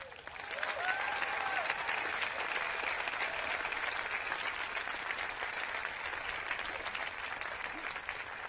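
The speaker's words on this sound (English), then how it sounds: "now I hope you will give a round of applause to every parent and every" Audience applause at a 2015 commencement ceremony: a large crowd claps steadily and densely for over eight seconds at an even level, with faint cheers mixed in and no clear speech.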